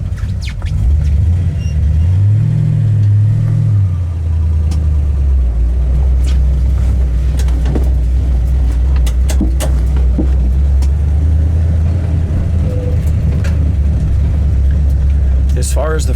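A 1962 Chevrolet Bel Air with a 409 V8 runs on the road, a deep steady rumble that swells into a brief rev early on, with scattered clicks and knocks over it.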